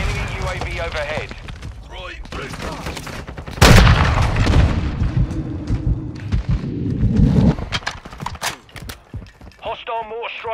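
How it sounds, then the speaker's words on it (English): Mortar strikes in a military shooter video game boom and crackle, with a large blast near the middle and scattered gunfire around it, under a busy mix of game sounds and radio-style voice callouts. "Hostile mortar strike near your position."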